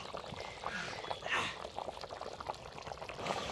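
A goat head curry simmers in a pot over a wood-fired stove, bubbling and popping faintly and continuously at a low level.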